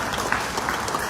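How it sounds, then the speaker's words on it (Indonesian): Steady applause from a crowd at a Vesak holiday aid event in Indonesia, a dense wash of clapping that stays even throughout. "tepuk tangan."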